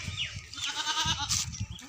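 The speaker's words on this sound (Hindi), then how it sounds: "बकरी हैं, बकरियाँ खड़ी हैं अभी," Goats bleat repeatedly in a village, several overlapping calls rising and falling across the moment, fairly close and clear over a background of outdoor ambience.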